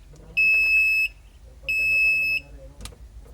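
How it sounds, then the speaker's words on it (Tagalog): Two sustained electronic alarm tones from a 100 kVA generator set, each about a second long, sound loudly over a low engine rumble, followed by some clanking. "Mawala na yung alarm niya."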